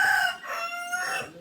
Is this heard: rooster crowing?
yes